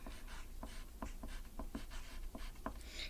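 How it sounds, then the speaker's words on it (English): A pencil or pen writing a name on a math paper, with a run of soft scratchy strokes and short taps in an uneven rhythm, close and quiet against light room noise. "We write our name."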